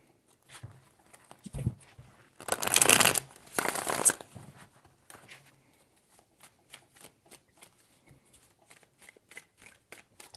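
Tarot cards riffled and shuffled in a couple of quick, crisp bursts, followed by softer card handling, taps and slides on a table, close and with no talking.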